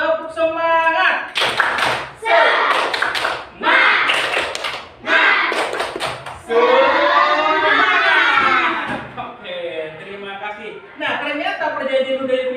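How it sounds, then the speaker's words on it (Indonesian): A school class does a rhythmic spirit clap (tepuk semangat): sharp bursts of group clapping in a quick repeating pattern, mixed with loud chanting voices, close and energetic. "Tepuk semangat"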